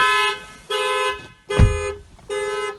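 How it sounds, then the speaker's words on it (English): The factory alarm of a 2017 Toyota Camry goes off in loud repeating horn-like blasts, about four pulses with short gaps between them. "Open the driver's door with a mechanical key and the factory alarm system is immediately activated."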